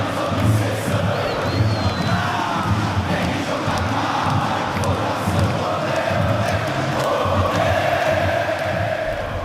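Palmeiras football fans chanting in a packed stadium, a dense roaring crowd singing in a continuous rhythmic swell for nearly ten seconds.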